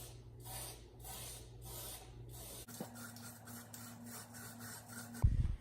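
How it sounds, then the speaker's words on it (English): Aerosol spray of Plasti Dip clear coat misting onto car wheels in short repeated bursts, then a longer continuous hiss, close and steady with no voices. "I'm gonna go ahead and put me the first layer of clear coat on there and see how that looks"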